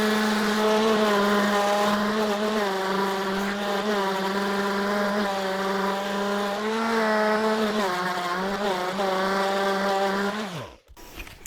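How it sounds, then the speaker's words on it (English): Power sander smoothing a trimmed fork leg on a Harley Sportster: a loud, steady high-pitched whine holds nearly continuously, wavering slightly as pressure shifts, then spins down abruptly at the end. "Now I'm gonna go with the sander and just get them kind of smoothed out just a little bit"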